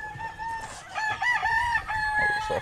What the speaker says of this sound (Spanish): Es un gallo manso, pero es un gallo agresivo